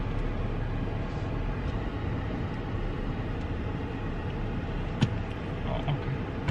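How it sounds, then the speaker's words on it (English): Steady low rumble of a car interior on the drive home, with continuous road and engine noise filling the cabin, a brief click near the end, and no talking. "we're back in the car and now we're going home"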